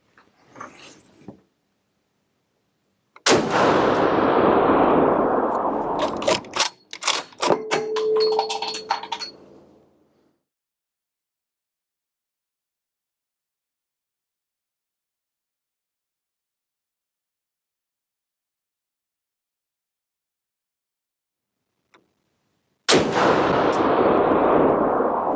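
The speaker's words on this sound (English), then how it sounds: "let's fire a few more rounds here" Firearm rounds are fired at a shooting range: a loud burst of shots with metallic clinks and ringing, then a long silence, and a final loud burst at the end.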